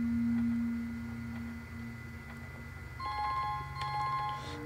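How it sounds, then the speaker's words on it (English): A telephone rings in the pixel-art adventure game Rakuen, a faint electronic ring pulsing in short repeated bursts over quiet ambient music, no voices. "And now the phone's ringing again."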